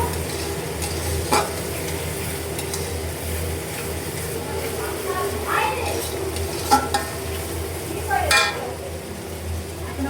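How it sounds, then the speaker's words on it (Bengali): Onions fry in a pan with a low, steady sizzle under a constant background hum, broken by a few short scrapes and clinks of stirring. "দুই মিনিটের ভিতরে পেঁয়াজটা ভাজা হয়ে যাবে"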